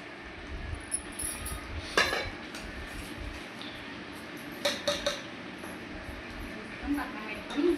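Roasted upma semolina for rava laddu is moved into a bowl, with metal utensils clinking and scraping against pots in sharp intermittent knocks, while a voice speaks in the background.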